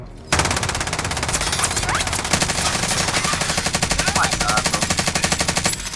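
Rapid, sustained machine-gun fire from a Call of Duty: Modern Warfare match rattles in a loud, continuous burst. Fainter gunshots and game sounds sit beneath it.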